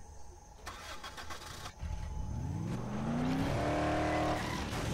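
An engine cranks and catches in the video game Dead Island, rising from a low grinding start into a steady revving car engine that climbs in pitch, loud and close, with no voices.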